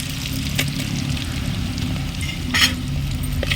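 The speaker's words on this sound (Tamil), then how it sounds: "எல்லாத்தையும் நல்லா மிக்ஸ் பண்ணி விட்டுடலாம். இப்போது கொஞ்சமாக சாம்பார் பொடி சேர்த்துக்கலாம்." Sambar with sambar powder stirred in a clay pot, a steady low bubbling simmer with occasional scraping strokes of a spoon against the pot, close and continuous with no talking.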